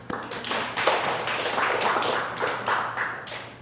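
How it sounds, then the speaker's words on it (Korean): A church congregation claps together in a steady, even wash of applause lasting a few seconds, moderately distant and without any voices. "다시 한번 박수"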